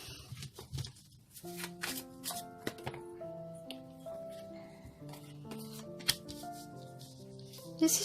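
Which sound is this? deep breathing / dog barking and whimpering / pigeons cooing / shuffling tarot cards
shuffling tarot cards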